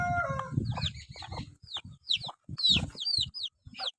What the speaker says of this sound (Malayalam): അപ്പോൾ ഇതാണ് കറുത്ത കോഴിക്കുഞ്ഞ്, ഇതാണ് ഏറ്റവും മൂത്ത കോഴിക്കുഞ്ഞ്.